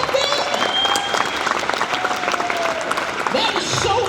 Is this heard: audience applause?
yes